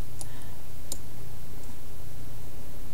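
Two sharp mouse clicks over a steady low hum, close and brief, while working in craft design software preparing shapes for 3D decoupage.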